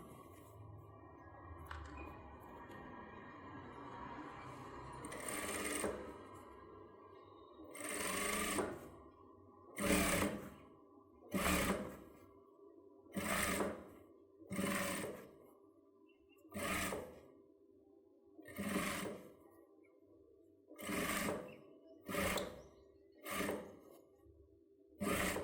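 A sewing machine stitches a child's pattu pavadai in a long run of short whirring bursts, roughly a dozen evenly spaced stitching spurts separated by brief stops, near and clear with no talking.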